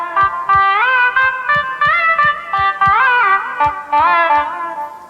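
Fast gamakam lick on the GeoShred iPad app, a bright synthesized melodic line with rapid pitch slides and oscillations, played in quick rhythmic phrases alongside soft percussive taps, loud and close with no talk.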